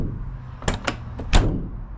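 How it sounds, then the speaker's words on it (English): RV storage pass-through door on a Forest River or Newmar coach, fairly lightweight, swung shut with a few quick knocks and latch clicks ending in one firmer thud, close and alone over low background hum. "but the door, listen to that."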